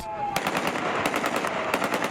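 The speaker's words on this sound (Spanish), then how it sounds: "Con disparos al aire," Rapid bursts of automatic gunfire fired into the air in celebration crackle in quick succession, loud and continuous over a noisy crowd-like background, in Syria.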